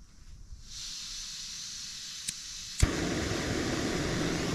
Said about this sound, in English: Right, get this gas flowing.